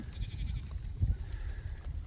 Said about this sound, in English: You can see the sheep are just enjoying the hay.